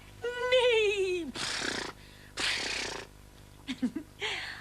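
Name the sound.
voice imitating a horse neighing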